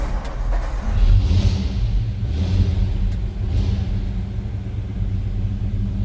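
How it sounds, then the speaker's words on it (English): A cold-blooded 1953 Ford F100 Stepside truck engine rumbles at a steady idle nearby, a deep, continuous low-pitched throb with slight surges. "Let's get her fired up. And we'll listen to it a little bit here."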